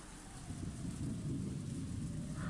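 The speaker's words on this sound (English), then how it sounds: "Just like the previous night, the rain was falling in earnest." Rain falls in earnest as an ambient effect in the visual novel game Umineko, a steady low-pitched wash of heavy rainfall with a dull rumbling undertone and no speech.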